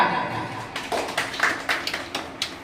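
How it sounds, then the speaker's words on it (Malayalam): A small class audience claps on request in a classroom, a light, scattered round of hand claps building unevenly over a couple of seconds. "ഇവിടെ ഒരു ക്ലാപ്പ് എടുക്കുക."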